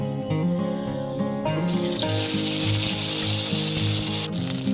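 A ground paste of cumin, mustard, ginger and chilli drops into hot oil and breaks into a loud, steady, frying sizzle that starts a little way in and continues over background music.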